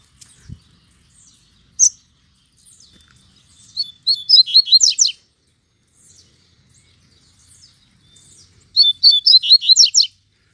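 Double-collared seedeater song with bright, rapid trilled phrases, two main bursts a few seconds apart plus scattered single chirps, fairly close and clear against a quiet background.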